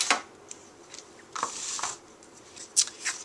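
Two rubber brayers coated with ink roll against each other, giving a tacky, crackling hiss in uneven close bursts, with sticky peeling pops between the strokes.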